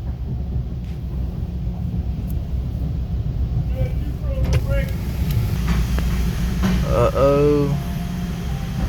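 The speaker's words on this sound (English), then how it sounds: "Look at all these whirring machines." Car wash machinery whirs and rumbles around a BMW in an automatic car wash in Ohio, a steady low drone with brief mechanical whines, while people talk inside the car.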